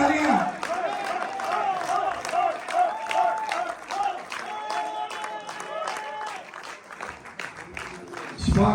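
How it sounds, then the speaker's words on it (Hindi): Audience applause at a Pakistani/Indian felicitation event honoring Doctor Ajmal Malik, with film, TV and stage artists attending; steady crowd clapping runs through, mixed with someone speaking and background chatter. "तालियां यार, तालियां"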